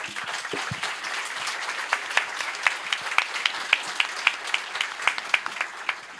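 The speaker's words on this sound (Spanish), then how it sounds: "Un aplauso, por favor." A conference audience applauds a speaker being introduced, a dense steady wash of many hands that turns into sharper, evenly spaced rhythmic claps toward the end, with no talking.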